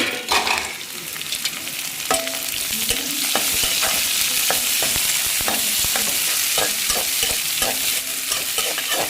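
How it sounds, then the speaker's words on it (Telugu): Onions frying in hot oil with green chillies for a home-style chicken fry, a steady loud sizzle with repeated stirring clatter throughout, no talking. "ఈ పచ్చిమిరకాయలు కొంచెం వేగిని అనిపిస్తున్నాక అప్పుడు ఉల్లిపాయలు వేయడమే చూడండి ఉల్లిపాయలు వేస్తున్నాను"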